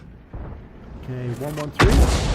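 In a tank video game, the Object 261 fires its gun with a deep boom that ends the short stretch, after someone speaks over quieter game sounds.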